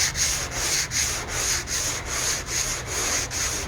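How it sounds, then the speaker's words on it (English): A hood on a 1970 Chevelle is block sanded by hand in crosshatched strokes. A steady, close, rough scraping rubs back and forth in an even rhythm of about two strokes per second, with no voices. "As you sand,"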